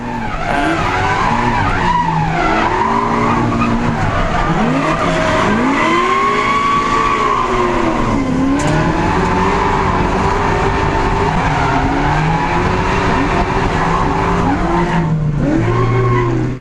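Loud, continuous engine roar and screeching tire squeal from several drift cars skidding together in a team drift run at a drift series competition, with pitch rising and falling as the cars slide.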